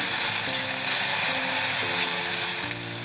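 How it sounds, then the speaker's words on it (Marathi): Potatoes and green chillies sauté in a pan, giving a steady, even frying sizzle with a soft melody running underneath. "आता हे थोडं परतवून घ्यायचं आहे."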